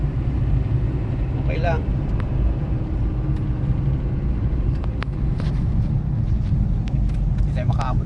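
A Mitsubishi Adventure on a road test, its temperature climbing at around 60 kph, gives a steady low engine and road rumble inside the cabin while people talk over it.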